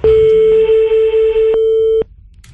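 Loud, steady telephone busy tone, a single pitch held for about two seconds with brief dips, then it stops abruptly.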